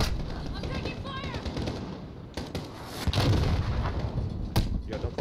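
Distant artillery booms and scattered gunfire in Call of Duty Modern Warfare co-op play, rumbling under a steady battlefield din, with brief radio-like voices and a few sharper shots.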